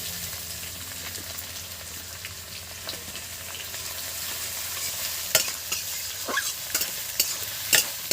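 Onions hit spiced oil for a mutton and potato curry, a steady low hiss of frying that picks up a few sharper crackles and spoon scrapes toward the end.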